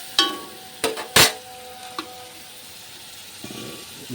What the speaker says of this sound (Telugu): మసాలా బాగా ఫ్రై అయింది